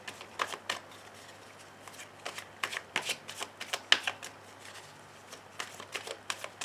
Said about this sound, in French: je vais commencer mon tirage ce soir avec mon tarot